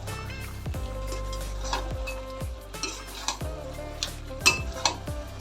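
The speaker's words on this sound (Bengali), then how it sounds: "এবার আমি এটা ভালোভাবে নাড়াতে থাকবো।" Kashmiri red chilli powder is stirred in a pan, with a utensil repeatedly scraping and clanking against the metal in uneven strokes and occasional sharper knocks, close and clear with no talking.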